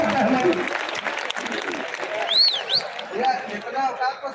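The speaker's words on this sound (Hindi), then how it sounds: "एक बार जोरदार ताली बजा करके फजीहत गहमरी" An audience at a live Hindi comic poetry gathering breaks into loud applause. The clapping comes through beneath a voice and crowd noise, and a few squeaky tones rise midway.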